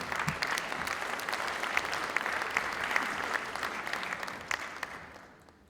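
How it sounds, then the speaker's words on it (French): Audience applause at a round-table conference as panelists are invited up, sustained crowd clapping with sharper individual claps on top, gradually fading out at the end. "Venez avec nous, sous vos applaudissements, s'il vous plaît."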